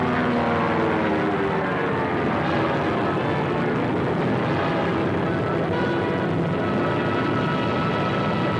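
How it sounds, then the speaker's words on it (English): A propeller airliner of Air Cathay drones steadily in flight over Asia, a constant loud engine hum with a throbbing tone that holds without a break throughout. "Somewhere over Asia, the modern airplane blends with the endless clouds."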